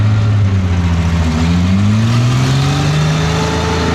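A Second World War German tank's rear-mounted Maybach engine rumbles loudly up close at a show, its deep note rising steadily in pitch as it revs, with no talk over it.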